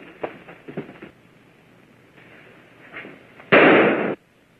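A single loud burst, like a gunshot, follows faint scattered sounds and lasts about half a second before cutting off.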